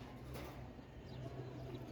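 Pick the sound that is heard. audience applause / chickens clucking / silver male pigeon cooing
silver male pigeon cooing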